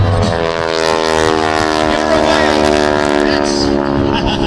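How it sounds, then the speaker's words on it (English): A 450 horsepower radial airplane engine growls loud and steady at an air show, propeller tips going supersonic with a harsh buzzing drone that holds throughout, heavy and close. "That's not only the sound of the growl of the 450 horsepower motor, but the sound of the propeller tips going supersonic"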